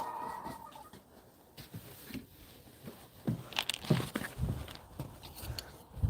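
Ducklings and baby chickens being fed outdoors near a porch, soft clucks and peeps with shuffling, crunching footsteps nearby, growing busier toward the end.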